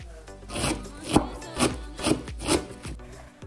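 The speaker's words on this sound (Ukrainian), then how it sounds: "Поки засмажка тушкується, я нарізаю капусту." A knife slicing cabbage very thinly for borscht, with a series of crisp, regular cuts close by, about five strokes spaced roughly half a second apart, and no voices.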